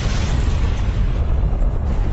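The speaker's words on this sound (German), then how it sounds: "Lava steigt an die Oberfläche und entweicht explosionsartig." A volcanic eruption explosion, a deep rumbling boom of venting lava and gas, loud and sustained across the whole stretch with no voices.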